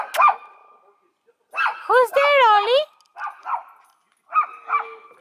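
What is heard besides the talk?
dog barking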